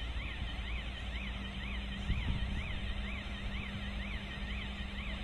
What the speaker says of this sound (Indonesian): Saat ini yang berbunyi alarm adalah menandakan kren bergerak ke arah